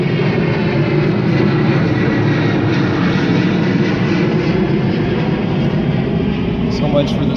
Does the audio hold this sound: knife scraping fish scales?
no